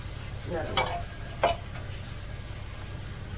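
Wheat flour dhirde batter cooking on a hot pan, giving a steady low sizzle with two brief scraping clicks of a spatula as it is gently spread.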